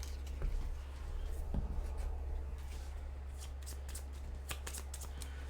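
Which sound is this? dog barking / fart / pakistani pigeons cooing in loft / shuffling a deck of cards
shuffling a deck of cards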